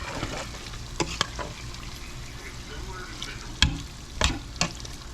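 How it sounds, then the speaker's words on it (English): Beef fat renders slowly in a pot for pemmican, giving a steady low sizzle and bubbling with occasional scraping knocks from a stirring spoon, close up and without talk. "it's been over 30 minutes rendering this fat so far"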